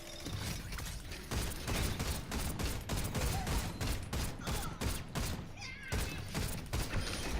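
Gunfire aimed at a training bot in the Overwatch video game: close, loud bursts of rapid shots repeating steadily with short gaps between volleys.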